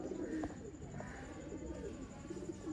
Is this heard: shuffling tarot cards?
no